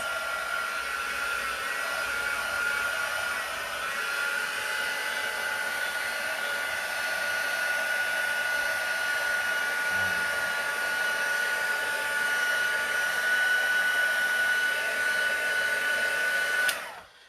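A hair dryer blows continuously at close range over a painted card, a steady whirring hiss that cuts off abruptly at the end.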